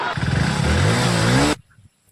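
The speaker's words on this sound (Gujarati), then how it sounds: "ત્યાં બાઇક રાઉસ કરો છો" A motorcycle engine revs hard for about a second and a half, its pitch climbing under the throttle before cutting off sharply into near silence.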